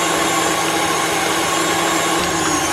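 Electric mixer beating carrot cake frosting, a steady, loud, continuous motor whir that holds without a break from start to finish, with no voices over it.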